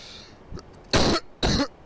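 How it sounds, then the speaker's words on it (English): Two loud, harsh coughs in quick succession, close by, after a softer throat-clearing sound. "I'm sorry about that, coughing away"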